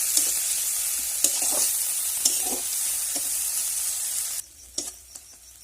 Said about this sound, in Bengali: এবার সব কিছু ভালো করে কষিয়ে নেব